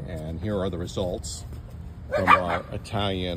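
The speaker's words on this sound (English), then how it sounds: "excuse the dogs" Dogs barking loudly nearby in a yard beside an Italian 258 fig tree, several sharp barks and yips breaking in over someone speaking.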